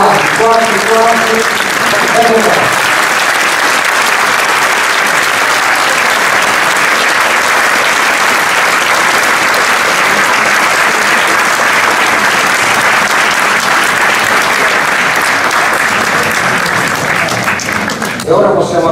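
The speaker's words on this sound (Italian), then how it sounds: "Applauso" A large crowd applauds loudly and continuously for a long stretch at a theatre inauguration, with a brief voice at the start before the clapping swells.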